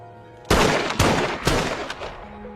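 Gunfire in a zombie film, a sharp close shot followed by a couple more loud bursts and echoing tails, against a quiet background with a faint tone.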